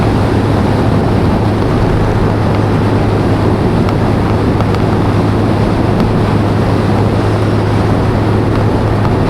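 Steady, loud engine drone from a Keeway RKS 125cc motorbike shifting from fourth into fifth gear, holding 50 mph, with heavy wind buffeting roaring across the whole clip from a strong headwind.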